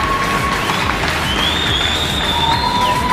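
Crowd at a Super League ice hockey game, Pretoria Capitals against Cape Town Kings, cheering and applauding after the match. Steady dense noise holds throughout, with a faint tonal whistle-like line running over it.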